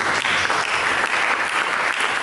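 A church congregation applauding during a sermon, a dense, continuous roar of many hands clapping, loud and even throughout with no talk.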